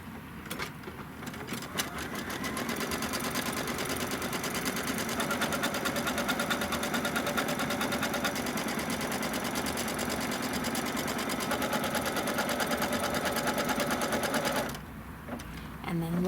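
A sewing machine stitches a tack-down on fabric, running in a steady, continuous mechanical whir for most of the duration before stopping near the end, close and loud.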